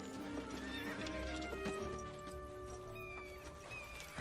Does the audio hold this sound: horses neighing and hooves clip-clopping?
yes